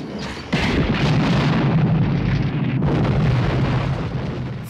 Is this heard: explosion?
yes